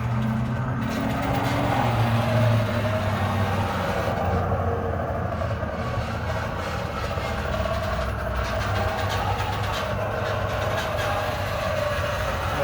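A 1:16 scale RC crawler car in low gear drives with a steady, loud motor and gear whine that keeps up a continuous droning rumble throughout.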